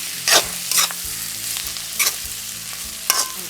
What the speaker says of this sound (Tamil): இப்போ இந்த வெங்காயம் வதங்கப்பட்டுட்டுது